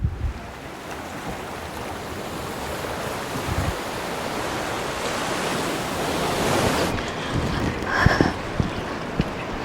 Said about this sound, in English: All you can hear is the sound of the waves.